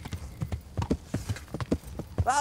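Rhythmic clip-clop of horse hooves while riding in the medieval video game Kingdom Come: Deliverance, an even trotting beat close up, with a brief rising whinny-like sound at the very end.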